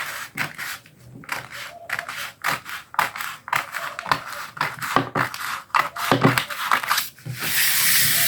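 Paper scissors cutting pattern paper for a bodice block, close, with a rapid series of crisp snips and rustling paper in uneven bursts, ending in a sustained papery rustle.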